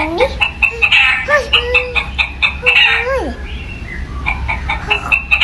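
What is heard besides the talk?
recorded chicken clucking in children's guessing game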